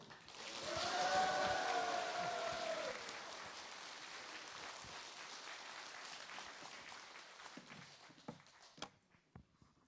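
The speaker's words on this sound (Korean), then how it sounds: "큰 박수로 맞이해 주십시오." Audience applause welcoming the head of the Korean Senior Citizens Association as a lecturer at a civic self-governance college, loud and steady clapping from a hall crowd that gradually fades and thins to scattered claps.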